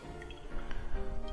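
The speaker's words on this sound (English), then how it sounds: "just strain it with a very fine strainer" Skittles-soaked alcohol poured through a very fine strainer, giving close-up dripping and trickling liquid sounds with soft wet squishes.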